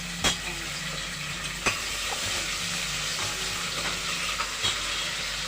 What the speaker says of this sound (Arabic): لازم تتشوح تشويحه حلوه دي